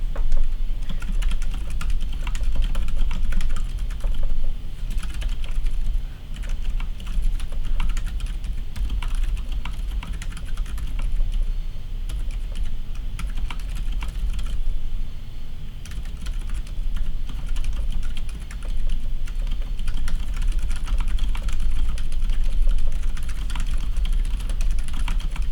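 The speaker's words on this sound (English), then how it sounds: "I'm gonna just type the Pokemon Shiny one again" Continuous typing on a Ninja87BT mechanical keyboard built as a quiet office board, with a steady stream of muted key clicks and occasional heavier strokes going on for a long stretch without talk.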